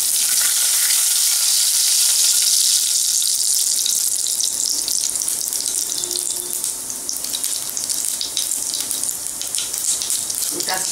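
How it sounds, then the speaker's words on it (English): Mustard seeds spluttering in hot oil in a pan, a busy crackling sizzle with bursts of popping that runs steadily throughout, fairly loud and close. "First add this mustard seeds and let it splutter."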